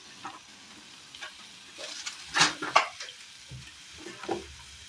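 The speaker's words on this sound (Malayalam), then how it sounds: "നന്നായി ഒന്ന് പൊരിച്ചെടുക്കാം. നന്നായി ഫ്രൈ ആയി കിട്ടിയിട്ടുണ്ട്." Kerala snacks deep frying in a pan of hot oil: a quiet, steady sizzle with brief crackling bursts and light spluttering, heard up close without speech.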